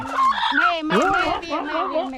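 A chicken near a group of ducks gives loud, close, harmonic clucks and calls in a continuous run, with other bird voices mixed in.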